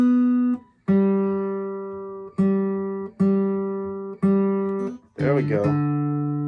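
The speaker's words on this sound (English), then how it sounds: "So this guitar, let me tune it a little to my tuner." Acoustic guitar strings plucked one at a time while being tuned against a tuner, each note ringing clearly and decaying, about six distinct plucks with a slight pitch wobble on the last.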